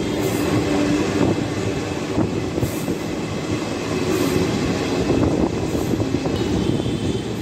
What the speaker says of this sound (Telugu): సికింద్రాబాద్ నుంచి 1176 కిలోమీటర్ల డిస్టెన్స్ కంప్లీట్ చేసి ఈ ట్రైన్ చేరుకుంది నడియాద్ జంక్షన్.